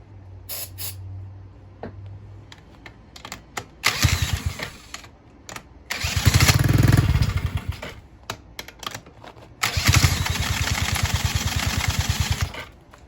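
A chopper motorcycle engine, choked for a cold start, cranks in repeated bursts of rapid, rattling pulses that catch briefly and then die, with sharp clicks and knocks between the attempts.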